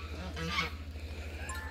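Farm ducks kept as alert watchers give a short, faint honking call over a steady low hum, with no one speaking.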